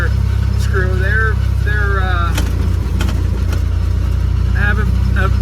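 An engine runs at a steady idle after carburetor tuning with the accelerator pump and idle mixture screw adjusted, a loud constant drone throughout with someone talking over it.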